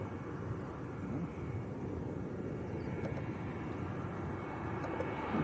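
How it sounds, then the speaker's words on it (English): A British Airways Airbus A321 airliner out of Gatwick, heard as a steady, broad engine roar with low rumble that holds at an even loudness throughout, without obvious rise or fade. "British Airways A321 from Gatwick."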